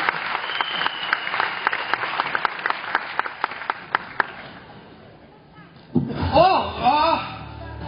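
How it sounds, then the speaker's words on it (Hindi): An audience at a success-testimony gathering claps in a quick rhythm for several seconds, loud and close, then fades as a voice begins talking. "एक बार जोरदार ताली, कम ऑन एवरीवन।"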